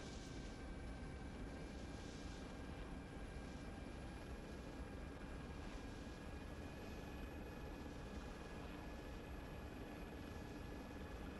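Helicopter flying in a video game set on the island map Tanoa, its rotor and engine drone holding steady and fairly loud throughout, with no talk over it.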